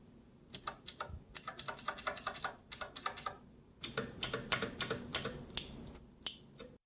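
Rapid bursts of clacky keystrokes on a mechanical keyboard fitted with genuine Cherry plate-mount stabilizers and no keycaps, close and clear in uneven runs with short pauses, a few louder bar-like thocks mixed in.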